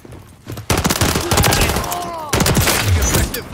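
Video game gunfire, loud rapid bursts cutting in abruptly and running in two long stretches, with whizzing effects and a radio-style voice underneath.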